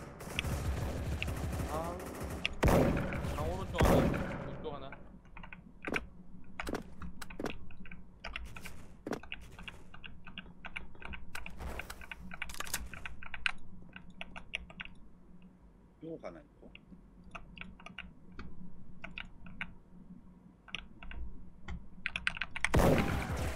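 Rapid computer keyboard typing and key clicks during a Special Force shooter game, with faint gunfire bursts mixed in and a voice talking over the clatter.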